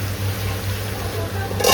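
Country chicken curry braising in a pan, a steady close sizzle with faint stirring and a brief clatter at the end.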